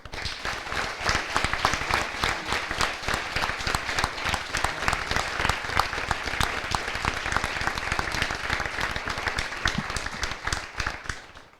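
A large audience at a public-speaking competition final in Le Mans applauds loudly and continuously, dense clapping sustained for several seconds before tapering off at the end.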